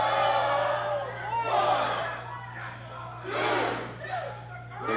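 A wrestling crowd at an OVW match roars and chants in loud, swelling waves, with shouts rising and falling across the arena and a steady low hum underneath.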